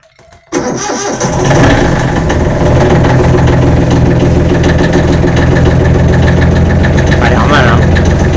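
A Volvo Penta marine engine cranks briefly and catches, then settles into a loud, steady idle that runs on without a break, close and strong.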